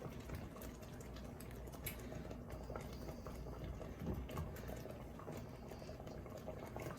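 Peanut butter chicken sauce bubbles and simmers in a pot, giving a quiet, continuous crackle of small pops and soft blips with no voices.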